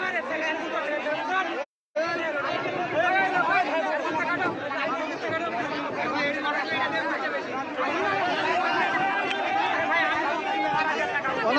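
A curious crowd gathered at the site of a crashed training plane chatters in a dense, continuous babble of many nearby voices, broken by a brief drop to silence early on.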